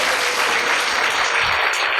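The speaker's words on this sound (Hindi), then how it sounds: "जोरदार तालियां मैम के लिए" Applause for a woman invited to the podium at a CPR workshop, dense steady clapping from a room full of people throughout, loud and sustained.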